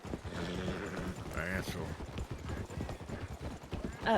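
Horse hooves clip-clop in a steady rhythm in a Red Dead roleplay game, close and clear under ongoing conversation between several people.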